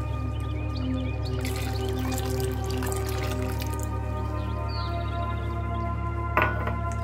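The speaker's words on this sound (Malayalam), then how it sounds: "ഈ രണ്ടാം പാൽ നമുക്ക് ഇതിലേക്ക് ഒഴിച്ച്" Thin second coconut milk poured into a pot of mango pradhaman, a soft trickling and dripping liquid sound under faint kitchen clatter, quiet and close.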